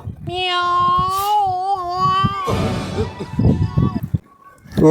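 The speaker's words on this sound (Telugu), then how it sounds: "మా పిల్లి" A house cat gives one long, drawn-out, wavering meow close by. Voices chatter and talk right after it.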